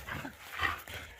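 Several dogs bark in short, yipping bursts close by, a few sharp barks in quick succession at moderate loudness, without talking over them.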